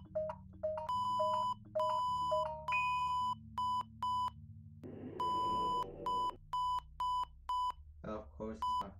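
A phone alarm beeps in repeated bursts of bright electronic tones, some rapid and some evenly spaced, fairly close, with a voice speaking in one louder stretch partway through.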